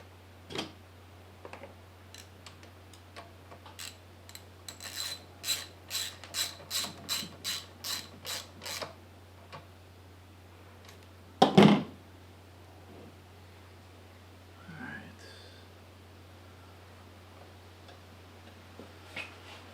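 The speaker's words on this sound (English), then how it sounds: "Let's put in this one screw." A screw is driven by hand into a Toro T800 generator, giving a run of quick ratcheting clicks that speeds up and stops, followed by a sharp knock and a few faint handling sounds over a low steady hum.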